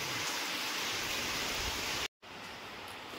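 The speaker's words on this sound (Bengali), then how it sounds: "বিশাল জোরে হাওয়া হচ্ছে, বেশ জোর আছে হাওয়ার, মানে এরকম হাওয়া হচ্ছে, আবার সাথে খুব বৃষ্টিও হচ্ছে" Heavy rain and strong wind during Cyclone Remal make a loud, steady roaring hiss that fills the whole clip with no talking, broken only by one brief cut-out near the end.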